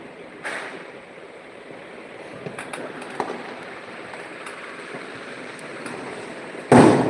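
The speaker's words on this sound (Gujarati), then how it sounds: "આજે ફટાકડા એટલા ફૂટી રહ્યા છે" Firecrackers bursting outside at night, heard as a few faint distant pops and cracks over a steady background hiss, with one sharper, louder burst near the end.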